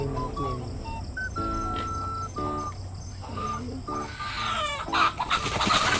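Chickens clucking and calling up close, a series of short broken clucks and squawks with a rising, louder cackle near the end over steady background noise.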